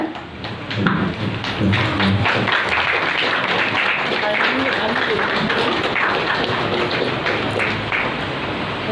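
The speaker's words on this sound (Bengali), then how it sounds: "একটু সকলে একটি উষ্ণ করতালির সাথে ওনাদের স্বাগত জানাই আমরা।" An audience at a Rabindra-Nazrul evening programme gives a warm, sustained round of applause to welcome performers, dense and loud clapping throughout with a few voices mixed in.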